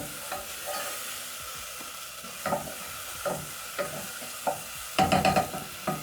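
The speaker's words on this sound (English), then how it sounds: "Stir in the spices." Spices and tomatoes sizzle in a pan for a Kenyan dish while a spoon stirs them, giving a soft steady fry broken by repeated scraping strokes and a quick flurry of stirring near the end.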